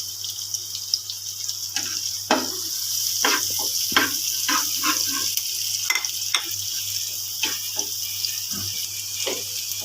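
Pasta frying in a pan with chili powder, stirred with repeated scraping knocks over a steady sizzling hiss, close and fairly loud, no talking.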